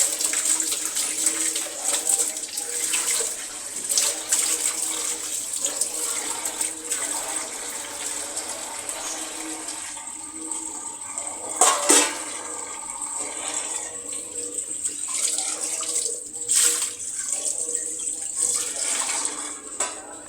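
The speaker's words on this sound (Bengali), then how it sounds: "এখন আরেকটা প্লেটও মাজবো।" Plates are scrubbed and rinsed under a running kitchen tap, a steady hiss of flowing water with intermittent splashes and clinks of dishware throughout.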